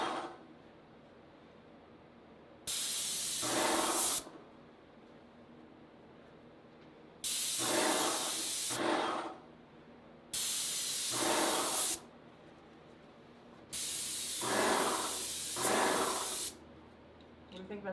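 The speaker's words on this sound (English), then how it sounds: "You have to start your spray off of the door because there is pressurized paint in here" A Graco paint sprayer sprays paint onto a kitchen cabinet door in four long, steady hissing bursts separated by short quiet gaps, loud and close.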